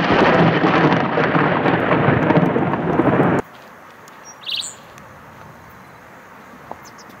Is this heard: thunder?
yes